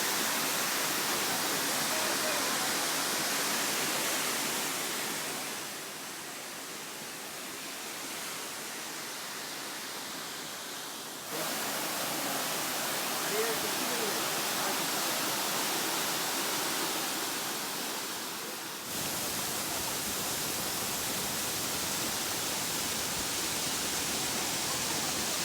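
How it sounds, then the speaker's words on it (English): A continuous broadband roar of rushing water from a monsoon waterfall near Pratapgarh, India, heard up close, steady with a few abrupt shifts in loudness. "On the way to Pratapgarh, we encountered these stunning waterfalls."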